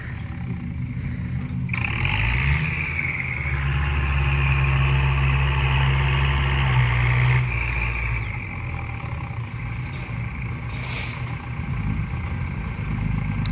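A tractor engine chugs steadily close by while filling land for a cattle pen, a rough droning rumble that swells, holds, then eases off with some rattling.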